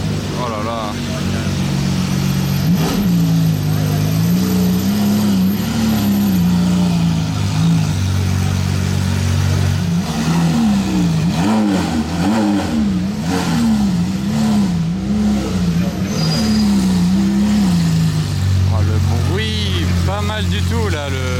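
A Lamborghini Aventador SVJ with a Capristo exhaust revs repeatedly in loud, rising and falling bursts on a busy Monaco street during the Grand Prix weekend, with crowd noise and voices underneath.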